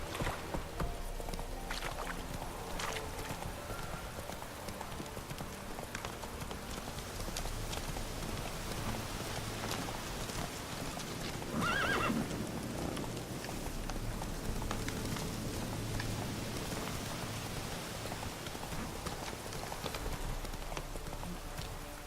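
Hooves of the horse Roach clip-clop in a steady galloping rhythm in The Witcher 3: Wild Hunt, moderately near under a wash of rain and water-like ambience on a cursed isle.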